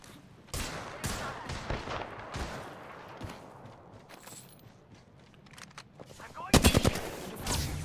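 Gunfire in the Apex Legends video game, with scattered bursts of shots throughout and a loud rapid volley near the end, mixed with quiet game sounds and some voices.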